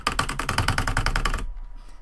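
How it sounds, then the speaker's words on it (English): Rapid keyboard typing clatters in a quick, dense burst of keystrokes for over a second, close and crisp, then stops abruptly into near silence. "There they go, typing in the comments"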